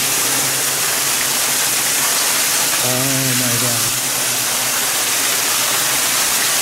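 Water cascades down over brick inside the Norwalk tunnel, a loud, continuous rushing splash that fills the space while a person briefly exclaims over it.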